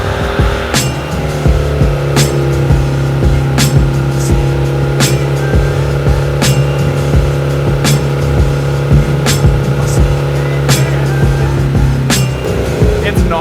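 A turbocharged Honda Civic engine cranks and catches on its first start, settling into a steady, loud idle with a low drone and rhythmic sharp ticks, close by, with people talking over it.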